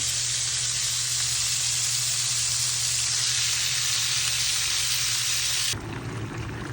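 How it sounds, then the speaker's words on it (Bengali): Shrimp bhuna frying in a pan, a dense, steady close sizzle that drops abruptly to a quieter hiss near the end, no talk. "এইখানে চিংড়ি মাছ ভুনা করতেছি"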